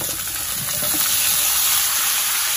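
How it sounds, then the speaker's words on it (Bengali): Papaya, sweet potato and carrot pieces frying in a pan for a village-style Bengali shukto, giving off a steady, close hiss and sizzle with faint stirring clatter underneath. "এবার আমি একে একে সব সবজিগুলো একসাথে ভেজে নেব।"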